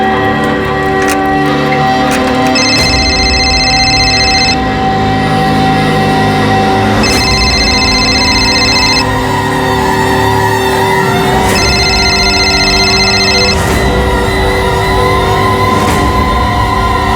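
Electronic phone ring in repeated bursts of about two seconds with gaps between, rising over a loud, steady rumbling background hum.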